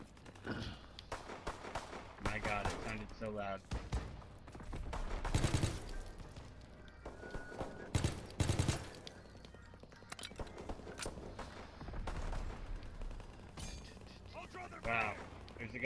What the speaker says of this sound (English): a guy shooting all around there.